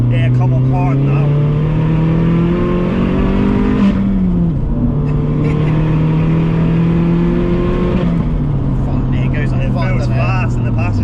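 A modified 552 bhp Vauxhall Astra VXR pulls hard from low revs. The engine drone holds steady through the turbo lag, then climbs in pitch as boost arrives, with a brief dip at each flat-foot shift, heard loud from inside the cabin.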